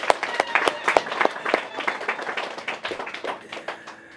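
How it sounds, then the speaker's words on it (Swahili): A church congregation at a thanksgiving Mass claps together in a burst of applause, loud at first and then gradually thinning and fading. "Naomba tumpigie makofi"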